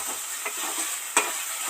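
Onion and tomato being stirred and mashed in a hot frying pan with a soft sizzle underneath and a few sharp utensil clacks against the pan, close and alone.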